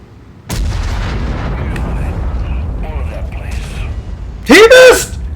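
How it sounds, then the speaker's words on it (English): A tank cannon fires in a video game, a loud, sharp boom that breaks out of ongoing battle noise and excited commentary, followed by a rising whine near the end. "He shot at that tank!"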